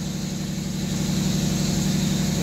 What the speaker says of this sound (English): The engine is something a little bit different. Unique sound in this engine house.